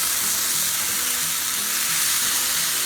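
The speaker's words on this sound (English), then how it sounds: "Then you're gonna just kind of stir" Cayenne pepper and spices stirred into potatoes frying in a pan for a breakfast burrito, giving a steady, close sizzle with soft scraping from the stirring throughout.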